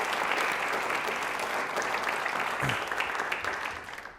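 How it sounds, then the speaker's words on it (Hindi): Steady, full studio audience applause for an advocate from the Rajasthan High Court on a televised Q&A programme, loud and even before tapering off. "एक बार तालियां जोरदार हो जाएं शिव जी के लिए"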